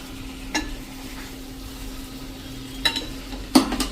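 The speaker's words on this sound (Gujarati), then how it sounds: "તો એને પણ આપણે આ રીતે મિક્સ કરી લઈએ" Potato bhaji with pepper powder being stirred in a pan, a soft steady sizzle running throughout, with three sharp scrapes or clinks of the spoon against the pan standing out, no talking.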